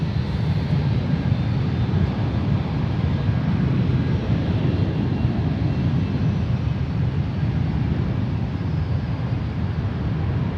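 A Delta heavy airliner landing at San Francisco International Airport on runway 28 right, heard as a steady, loud, broad jet roar with deep rumble that holds evenly throughout, with some wind buffeting on the microphone.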